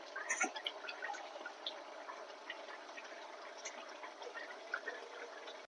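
Fish roe curry gravy simmers in a pan with a soft, constant bubbling and small popping ticks, quiet and close with no talk.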